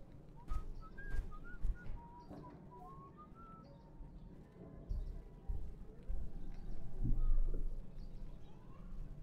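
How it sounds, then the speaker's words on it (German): Someone whistles a wandering, bird-like tune in the video game Das Schwarze Auge: Memoria, the thin tones clearest over the first few seconds, then fading into a busy backdrop of low rumbling ambience and scattered knocks. "Irgendjemand pfeift die ganze Zeit."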